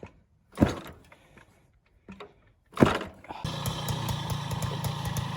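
A Motobécane 50V moped, bump-started by pushing with no kickstarter, after a few scuffing thumps coughs into life and settles into a steady, close buzzing two-stroke idle that runs to the end.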